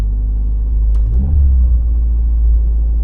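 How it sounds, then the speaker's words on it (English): A Cosworth engine with a slight misfire idles high and close up, giving a deep steady rumble broken by one quick throttle blip that swells and drops back within a second. "it's idling quite high. If I give it a little blip of the throttle, every now and again it'll just settle right way back down."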